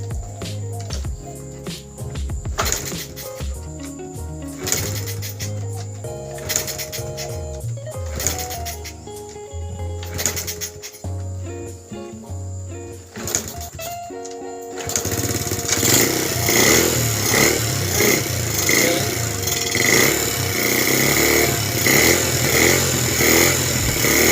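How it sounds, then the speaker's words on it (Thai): An engine left unstarted for a long time cranks with uneven clattering bursts and knocks, then catches and settles into a loud, steady running roar close by. "โอเคสตาร์ทกันเลย ดูว่ามันจะติดหรือเปล่าครับ อย่างที่เราไม่ได้สตาร์ทนาน"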